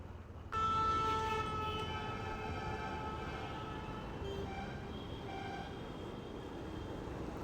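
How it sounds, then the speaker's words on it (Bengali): A train rumbles loudly and steadily past close by on an overhead track, with a long horn-like tonal blare sounding over the continuous roar, on a Kolkata street. "উপর দিয়ে ট্রেন যাচ্ছে"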